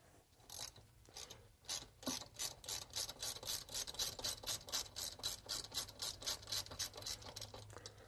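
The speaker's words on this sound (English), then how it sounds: "Sometimes you'll find out when you're ratcheting quickly that your ratchet is going forward and the socket's spinning back and forth" Quick, steady run of clicks from a ratchet wrench loosening the brake hose fastener on a car's front strut assembly, close up and fairly quiet, with a brief pause before the rhythmic ratcheting picks up.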